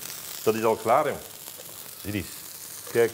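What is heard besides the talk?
steak frying in a pan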